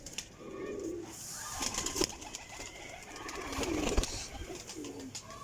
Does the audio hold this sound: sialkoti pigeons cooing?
yes